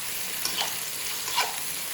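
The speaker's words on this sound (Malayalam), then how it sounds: "ഇതാ എണ്ണ ചൂടാകുമ്പോൾ അതിലേക്ക് ഇതാ ഞാൻ പൊടിയായി അരിഞ്ഞ് വെച്ച 2 സവാള കേട്ടോ" Two finely chopped onions fry in hot oil for a biryani, giving a continuous close sizzle with soft bubbling crackle that swells briefly a couple of times, with no talking.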